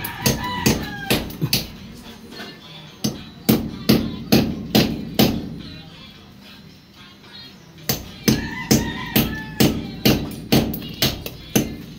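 Repeated sharp hammer blows strike nails in quick bursts during tile setting, with a brief quieter pause midway before the steady pounding resumes, close and loud.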